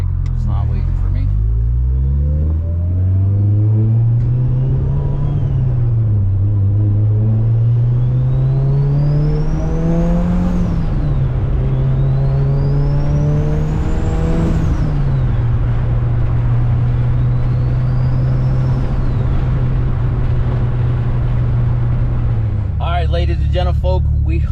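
A 550hp Mitsubishi Evo 8 drives and accelerates in repeated loud pulls, its engine note climbing through the gears with rising whines before easing into a steady cruise near the end.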